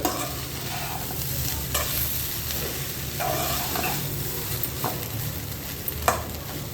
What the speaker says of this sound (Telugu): ఒకసారి ఇదంతా కలిసేలాగా మనం కలిపిస్తున్నాం.